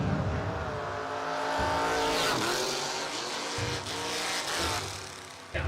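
A Mustang Mach-E electric car launches at a footbrake drag race, a loud continuous whine and tire noise with squeal building near the line, no talk over it.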